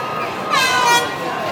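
A vehicle horn gives one short, fairly loud honk, heard up close amid light outdoor background noise.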